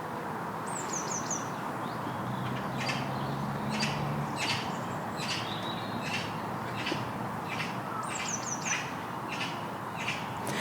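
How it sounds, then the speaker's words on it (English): Several magpies call around a Hampshire neighbourhood of trees, giving repeated harsh chattering bursts at moderate distance over steady outdoor ambience, with a few higher bird chirps mixed in. "There's lots of magpies around this area. I can see 2 flying in now, but I could already hear several calling out."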